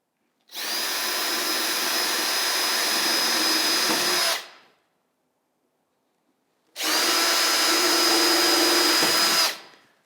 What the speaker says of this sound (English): This is a bit with a countersink. All I want to do is to punch through about every 5 inches.